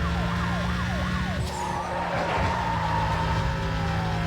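A rising and falling electronic police siren in the video game Need for Speed Most Wanted wails over steady engine roar, with a brief screech of tires midway; continuous and loud throughout.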